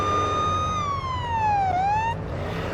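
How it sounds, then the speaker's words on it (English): A loud police siren in the video game Police Simulator: Patrol Officers wails steadily, its pitch sliding down and then back up before cutting off abruptly. "So we're gonna go with some sirens real quick."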